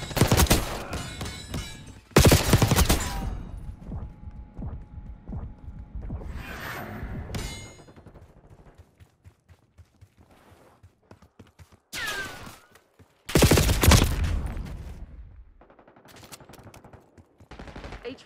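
Bursts of automatic gunfire in Call of Duty Black Ops 6 multiplayer come in loud clusters separated by quieter stretches of scattered shots and ambient game noise.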